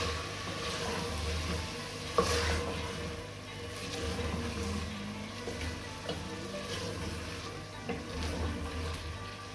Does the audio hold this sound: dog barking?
no